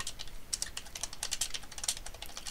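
Quick, light keystrokes patter on a computer keyboard in short bursts, close and fairly quiet, with no voices.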